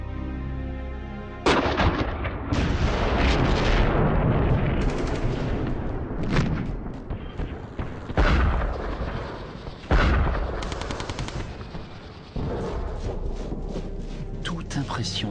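Heavy booms of artillery and bursts of gunfire crash repeatedly, loud and close, with rumbling blasts overlapping throughout.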